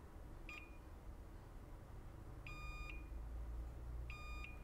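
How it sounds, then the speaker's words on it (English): A multimeter's continuity tester on a Crucial MX500 1000GB SSD sounds three short electronic beeps, spaced a second or two apart, as it probes capacitors shorted to ground. The beeps carry over a faint, steady background hum. "we're getting a beep that's telling me that both sides are shorted to ground."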